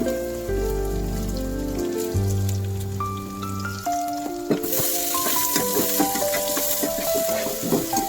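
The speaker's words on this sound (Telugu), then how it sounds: "ఈ ఉల్లిగడ్డలు కొద్దిగా బ్రౌన్ కలర్ వచ్చే వరకు వేయించుకోవాలి" Chopped onions fry in a pan with cumin, ginger paste and curry leaves, giving a dense crackling sizzle that rises partway through and runs alongside prominent melodic music.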